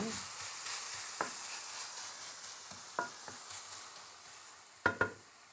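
Pork fries in a pan for a Vietnamese broken rice salad roll, browning and crisping at the edges: a soft continuous sizzle with occasional stirring scrapes and two sharper clacks near the end, no talking.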